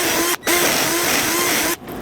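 A loose tenon joiner with its steady motor whine runs through the cutting of a set of mortise holes in wood, stopping briefly twice in a short, close, loud pass with no talk.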